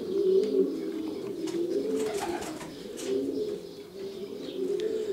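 Racing pigeons coo repeatedly in a loft in low, throaty rolls, several birds overlapping nearby, with faint chirps and rustling in the background.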